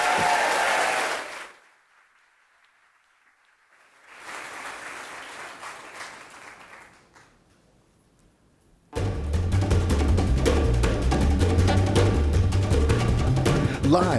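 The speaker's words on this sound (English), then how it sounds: "Let's practice that applause one more time as we introduce the video" A crowd applauding at a live downtown Orlando show in the Ace Cafe: one short burst of clapping, a pause, a second round of clapping that fades out, then loud music with a heavy beat takes over.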